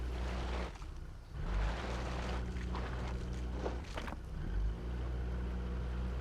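A Ford S-Max with a low engine drives through water toward a waterfall in a driving game, its engine droning steadily with surges of splashing wash and a couple of louder pushes.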